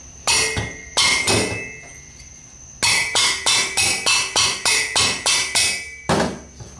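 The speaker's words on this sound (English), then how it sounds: "Take a little hammer and give it a tappy tap" A small hammer taps on a VW 1600 engine head: two sharp metallic knocks, a pause, then a quick regular run of about ten ringing taps, close and crisp.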